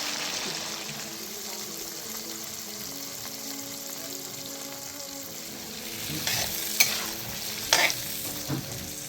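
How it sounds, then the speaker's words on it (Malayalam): Small onions sauté in hot oil in a pan for pepper chicken, giving a steady sizzle throughout, with a few louder scraping stirs near the end. "എണ്ണ നന്നായി ചൂടായി കഴിഞ്ഞ് കഴിഞ്ഞാൽ ചെറിയ ഉള്ളിയിട്ട് നന്നായി വഴറ്റുക."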